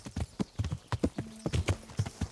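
Horse hooves clip-clopping at a brisk, steady trot in the medieval game Kingdom Come: Deliverance, close and crisp with even rhythmic beats and no talk.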